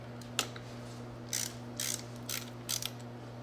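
Bolts on a Bafang BBS02 e-bike motor are loosened with a ratchet, giving short quiet bursts of clicking, about five separate ratcheting strokes, close by over a faint steady hum.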